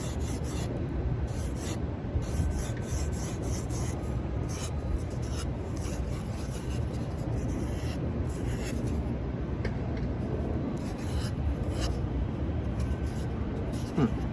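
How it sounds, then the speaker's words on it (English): Sandpaper rasps steadily against a foam bottle mock-up, giving a continuous close scratchy rubbing broken by a few brief pauses between strokes. "I might have to go to my lighter sandpaper so I don't damage the surface too much."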